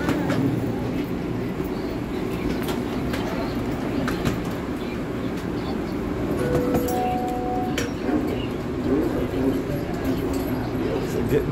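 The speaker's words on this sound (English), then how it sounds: "This train is departing." Automated airport plane train at Atlanta's ATL airport departing: a steady low rumble and hum of the rail vehicle with ambient station noise, a brief tonal chime, and faint background voices throughout.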